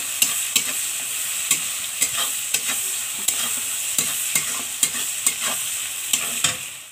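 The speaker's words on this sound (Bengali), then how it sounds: "পেঁয়াজটাকে লাল লাল করে একটু ভাজবো" Onions fry in a pan with a steady sizzle while a spatula scrapes and taps against the metal in a regular rhythm, close and without talk.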